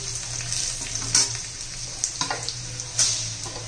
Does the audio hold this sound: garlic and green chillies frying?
yes